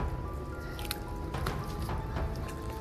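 Water drips in the woods, making soft, irregular plinks and squishy drops over steady background noise.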